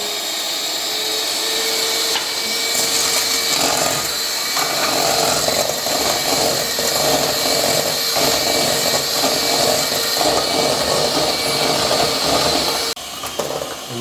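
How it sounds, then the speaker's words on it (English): Egg yolks being whisked with sugar for tiramisu, likely with an electric mixer, giving a steady loud whirring drone that runs almost the whole time without pause. "we're going to start whisking the egg yolk, adding a little bit of sugar at a time"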